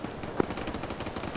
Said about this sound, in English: Able engagement machine gun